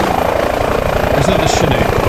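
An H145 helicopter in Microsoft Flight Simulator makes a loud, close rotor thrum with rapid low blade pulses over a turbine whine, while a person talks over it.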